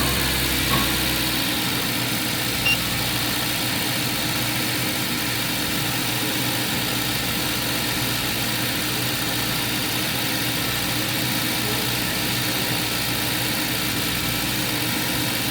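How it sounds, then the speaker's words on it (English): A car engine runs close by for the whole stretch, a steady, even drone with a faint vibration and no distinct rise in revs, no voices. "Rev it to between 1500 and 2."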